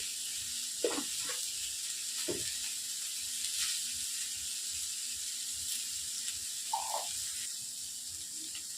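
Potato filling with salt and turmeric sizzles steadily in a pan, a continuous soft hiss with a few brief scraping stirs of a spatula.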